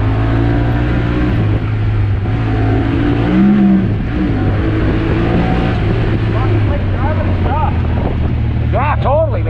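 A Honda Talon X side-by-side engine revs and drops through gears on a trail ride, a steady loud motor drone with pitch rising and falling, while voices talk over it near the end.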